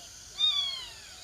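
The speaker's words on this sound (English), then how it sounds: "A rusty spotted cat." A rusty spotted cat, the world's smallest feline, gives a single short, thin meow, faint against a quiet background.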